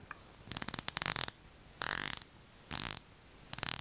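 Oris Divers Sixty Five watch bezel being twisted, giving several quick bursts of fine, crisp ratcheting clicks with short pauses between them, close and fairly quiet with no voice.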